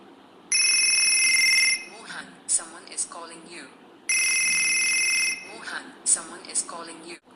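A custom phone name ringtone plays twice: a bright electronic bell ring lasting over a second, then a short burst of synthetic voice-like sounds, before the whole pattern repeats.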